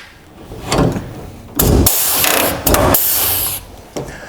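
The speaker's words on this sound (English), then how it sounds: "we're going to go ahead and rivet the panel in" A pneumatic rivet tool setting a dash panel in a dirt late model race car, several loud close bursts of hissing air and mechanical clatter with brief pauses between them.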